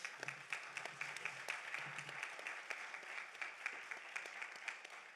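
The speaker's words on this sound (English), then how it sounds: "let's give our students another round of applause" Audience applause for students at a sustainability summit session on student leadership, faint and distant, with scattered individual claps audible in a steady patter.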